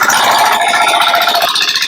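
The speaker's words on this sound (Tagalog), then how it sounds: "Nahirapan din yung makina eh, pati yung driver." A machine engine labours through deep mud in a rice field, a loud close rattling drone that holds steady and dips slightly in pitch near the end.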